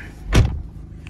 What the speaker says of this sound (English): Let me just shut this door one second.